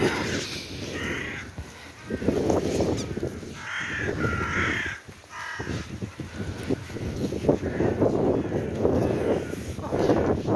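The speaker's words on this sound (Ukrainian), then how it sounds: "кричать ворони" Several crows caw repeatedly at a distance by the Dnipro river, harsh calls spread across the clip over steady wind noise outdoors.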